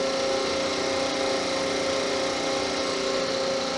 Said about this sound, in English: This motor here is running right now.